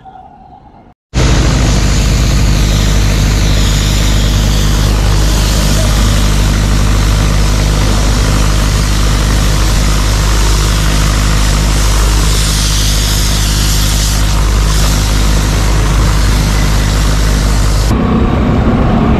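Heavy road carpeting machinery engines run loud and steady on an expressway under construction, a continuous low rumbling drone with a higher mechanical whine, holding nearly constant for about seventeen seconds before dropping off.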